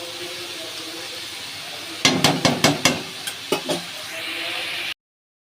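Steady sizzling of red amaranth greens frying in a pan, with a quick run of sharp scraping taps from a spatula stirring, then a few softer taps.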